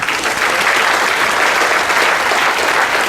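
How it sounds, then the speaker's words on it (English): Audience of a comedy show aboard a Holland America cruise ship claps in a dense, steady wash of applause, loud and close, sustained throughout without a break and with no voices on top. "Clap if you're over the age of 50."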